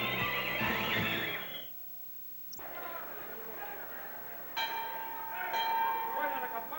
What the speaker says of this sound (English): Well, the bell sounds.